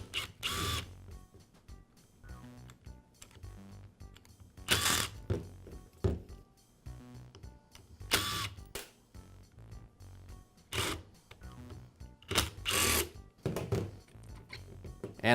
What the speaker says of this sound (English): Now I'll separate the gear case from the motor.